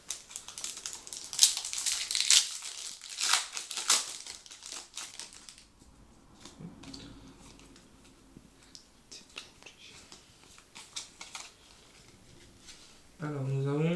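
Fake Pokémon card booster packs being torn open, with close, loud crinkling and crushing of the plastic wrappers in bursts, then quieter handling and faint whispery sounds.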